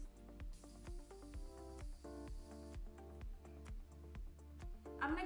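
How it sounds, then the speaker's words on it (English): A soft misting hiss from a Morphe setting spray bottle sprayed onto a face, lasting a couple of seconds, under background music with a steady ticking beat. "Taking my Morphe setting spray, I'm gonna go ahead and set my face."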